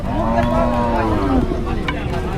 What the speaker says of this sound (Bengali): দেখেন অনেক সুন্দর গরু